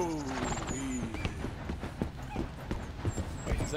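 Horse hooves clip-clopping at a steady walking pace in Red Dead Redemption 2, faint and uneven, with a brief whinny-like tone at the start and some speech underneath.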